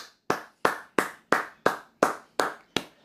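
Eight single hand claps at an even, unhurried pace, close and crisp, each with a short decay and silence between, from one person alone.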